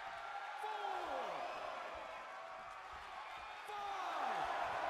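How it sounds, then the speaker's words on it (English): A wrestling arena crowd roars and cheers in WWE 2K22, a steady, fairly loud wash of noise with a few whooping swells and sharp impacts, and commentators talk over it. "The sound of this crowd is deafening, and he's asking for more."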